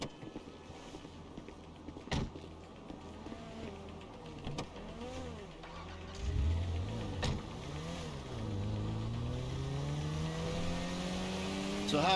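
A car is driven in the video game GTA 5, its engine note rising and falling in steady sweeps as it speeds up and shifts, with a few sharp clunks and a louder, sustained engine drone toward the end, near and clear.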